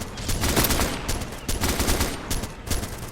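Machine gun fire from an enemy nest in the video game Arma 2 rattles in rapid repeated bursts, loud and sustained across the whole stretch.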